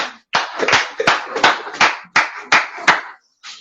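Loud, close hand claps ring out one person at a time in an uneven rhythm, about eight separate bursts with short gaps between them.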